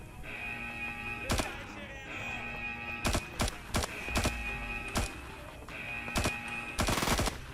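Gunfire in the shooter game IGI 2 Covert Strike: sharp, loud single shots and short rapid bursts at irregular intervals over a steady hum of ambient game background.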